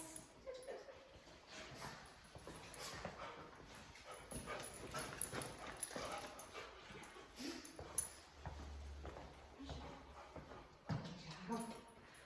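Several dogs in a morning dog training class, with scattered whimpers, yips and barks over a busy room, under ongoing talk and handler movement throughout.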